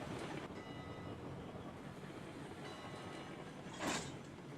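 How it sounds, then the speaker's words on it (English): A Shay locomotive pulling a train in the Railroads Online game, with a low steady rumble and mechanical clatter running throughout and a brief hiss or release near the end. "The Shay is ready to take this train"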